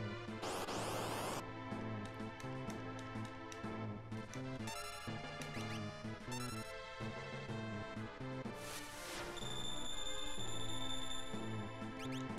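Alarm in the Final Fantasy VI Brave New World mod video game, a bright repeating electronic tone ringing over game music, loud and continuous through the stretch.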